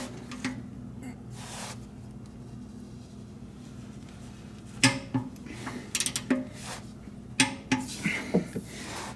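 A torque wrench tightens the oil drain plug on a 2013 Kia Optima, giving sharp metallic ratchet clicks and clunks in quick irregular bursts close at hand after a quieter stretch of faint handling noise.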